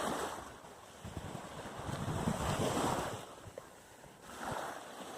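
Sea waves wash onto Khao Tao beach in Thailand on a hot day, a continuous surging roar that swells and eases, with gusts of wind buffeting the microphone.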